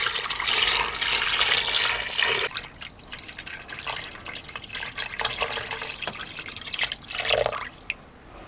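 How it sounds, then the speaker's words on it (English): Filtered water runs into an 8-quart Instant Pot inner pot, a steady splashing pour at moderate volume that stops, followed by scattered drips, clinks and handling noises. "I'm going to fill it to the max line with filtered water."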